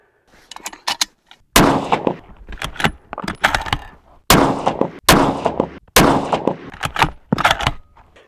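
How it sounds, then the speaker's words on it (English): Precision rifle shots at a range, several sharp loud cracks each trailing into a rolling echo, interspersed with smaller clicks and clatter of handling between shots. "I took 4 shots."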